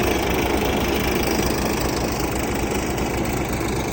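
An MTZ-50 tractor engine roars at full throttle, a loud, steady diesel rumble with rapid knocking pulses and rattling vibration, unbroken throughout.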